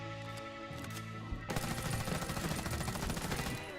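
Automatic rifle fire rattles in the shooter game Warface, a few tonal shots followed by a dense continuous burst of rapid gunfire, moderately loud with no talk.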